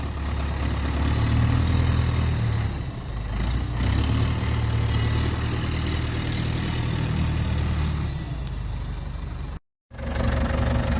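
A backhoe engine runs steadily at a low, rumbling idle while firewood is loaded, loud and close with a slight dip in level partway through and a brief dropout near the end.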